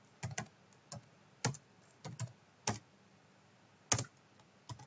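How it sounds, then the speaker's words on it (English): Keys on a computer keyboard clack in short irregular bursts, a handful of distinct taps with quiet gaps between, close but fairly soft, and no voice. "So we can type, let's say, simple linear"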